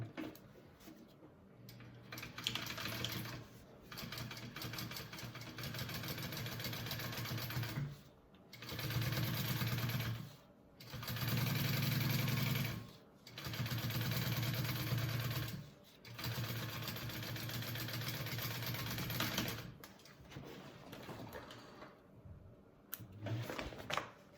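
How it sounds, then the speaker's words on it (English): A sewing machine top stitches a fabric bag seam in several bursts of fast, steady mechanical whirring separated by short pauses, close and fairly loud, with no talking. "I'm top stitching with my seam allowance going down towards this accent piece"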